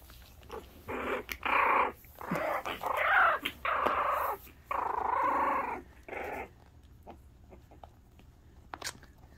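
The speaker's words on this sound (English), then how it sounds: "a little bit of barking, a little bit of growling" Small puppies growl and yap in rough, squeaky bursts over several seconds, close by, then fall quiet with only a few faint clicks.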